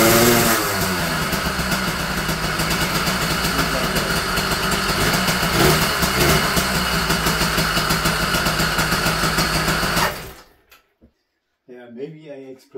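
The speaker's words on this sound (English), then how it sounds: "I disengage the clutch and give a little throttle" A motorized bicycle engine built with a jackshaft, running with the clutch disengaged and throttle applied, sounds like a loud, buzzing small-engine drone that holds steady and close for about ten seconds. It then cuts out abruptly, and a voice follows.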